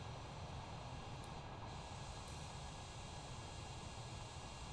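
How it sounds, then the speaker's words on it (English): Airliner engines hold a constant, steady broadband roar at full power during a takeoff roll in a flight simulator game, heard without interruption for the whole stretch. "apply full power, let the aircraft roll, go to external view"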